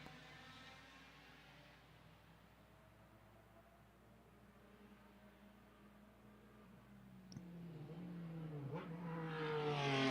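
Race cars at Lime Rock Park, including a Volkswagen GTI, sweep through turn one in a steady rising engine drone, with another car closing in near the end and growing louder.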